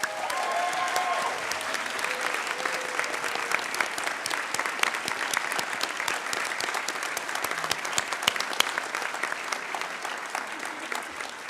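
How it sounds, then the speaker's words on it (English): Sustained, dense audience applause at a student leadership awards program honoring senior student leaders, even and continuous for several seconds with individual sharp claps standing out. "Won't you join me in honoring these outstanding senior leaders with your applause?"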